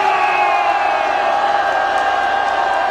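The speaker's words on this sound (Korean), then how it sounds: "함성을 크게 한번 지릅시다" A big rally crowd roars and cheers at a political gathering, a sustained loud mass of voices and whoops holding steady throughout.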